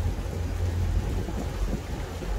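Strong wind buffets a barge on a river in the rain, a loud steady low roar of gusts filling the whole stretch with no voices.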